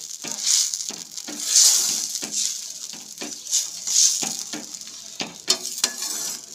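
Mustard paste mixed with water poured into a hot frying pan with mango and tomato for a Bengali fish curry, a steady bubbling sizzle broken by repeated stirring scrapes, moderately close.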